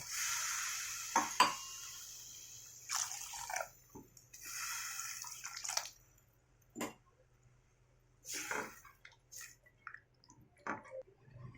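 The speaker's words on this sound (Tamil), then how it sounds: "2 டம்ளர் தண்ணி சேர்த்துக்கலாம்." Water pours into a pot of moong dal sambar in several short splashing bursts separated by quiet pauses, with occasional clinks of cookware.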